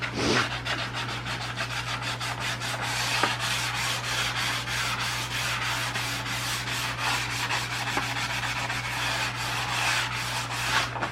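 Scuff sanding by hand along the outer drip rail edge of an old, rusty Dodge, a steady rubbing scratch that repeats in quick strokes, close and continuous over a constant low hum.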